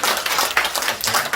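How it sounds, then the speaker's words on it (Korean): A church congregation bursts into applause after a building completion is announced at an Easter service, a dense, lively patter of many hands clapping at close range throughout, with no talk over it. "우리 건축 할렐루야 박수 할게요."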